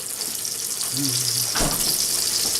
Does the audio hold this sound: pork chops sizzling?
yes